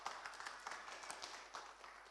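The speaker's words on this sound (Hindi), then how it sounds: "हम तालियों के द्वारा उनको बधाई दें" A church congregation at a Sunday Hindi service claps together, a faint, dense patter of many hands heard from a distance for a couple of seconds.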